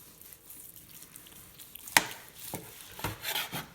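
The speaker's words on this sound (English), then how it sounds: "We'll slice it from the non-bone end first." A knife slicing through a smoked boudin-stuffed pork butt cooked on an Old Smokey grill, soft quiet cutting with a single sharp tap near the middle and a few brief scraping strokes.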